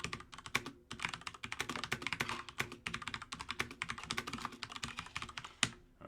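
Steady, rapid typing on a computer keyboard while writing Java code comments, with dense clicking keystrokes running continuously and close up, alone with no talk.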